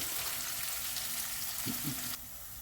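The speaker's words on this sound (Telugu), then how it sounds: "ఉల్లిపాయ ముక్కలు, పచ్చిమిరపకాయలు కొద్దిగా వేగాక ఉల్లిపాయ ముక్కలు వేస్తాము" Green chillies and onion pieces fry in a pan for a brinjal masala curry with chana dal, giving a steady, even sizzle with a couple of soft low knocks partway through, and no voices.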